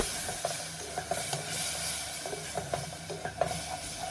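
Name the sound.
peas and yogurt frying in a pan for matar pulao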